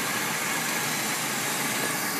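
A 1978 Pontiac Grand Safari station wagon idles steadily, its engine a continuous even rumble up close with no breaks or revving and no voices over it.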